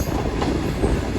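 The Shalimar Express rolls along the main line in Pakistan, a steady low rumble of wheels and carriage noise heard from inside a passenger coach, with no speech.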